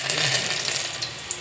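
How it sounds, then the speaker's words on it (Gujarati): Garlic sizzles and fries in hot oil with mustard seeds in a home kitchen, a steady crackling hiss throughout with no talking. "હવે લસણ નાખશું."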